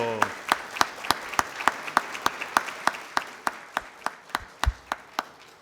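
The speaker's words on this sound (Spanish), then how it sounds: "Este aplauso." Clapping for a speaker at the close of a panel talk, a sharp, evenly paced series of about twenty individual claps, fairly close and distinct, with a brief low thump near the end.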